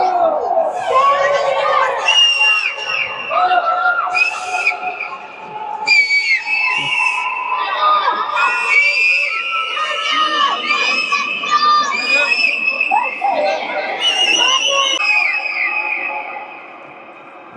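A crowd of children and adults shouts and cheers inside the Gol Gumbaz dome in Bijapur, Karnataka, with overlapping voices echoing into a dense, sustained reverberant roar that fades at the end.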